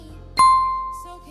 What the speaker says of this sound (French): cliquez sur la petite cloche là.